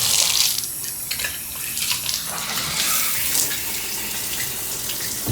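Water runs from a hotel shower at the Hilton Garden Inn Mobile East Bay in Daphne, Alabama, a loud, steady hiss of spray that continues unbroken, close by, without talk.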